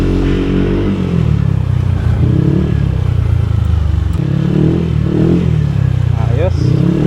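Yamaha Aerox 185cc scooter engine with a slightly louder exhaust idles loudly and close, a steady rough mechanical rumble with a few small throttle blips, while people talk over it.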